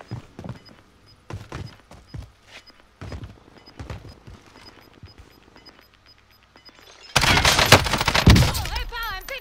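Video game battle gunfire: scattered single shots and thumps ring out first, then a sudden loud, sustained burst of shooting erupts near the end.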